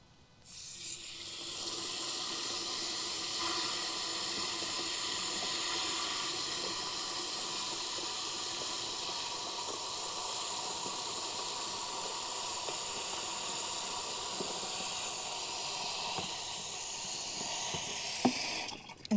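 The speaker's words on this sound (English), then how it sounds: "then I need to spray the hose to mix water in." Garden hose spraying water into a container to mix in Liquid Fence deer and rabbit repellent while planting sedum and heuchera outdoors, a steady broadband hissing spray running continuously and alone at close range, with a brief knock near the end.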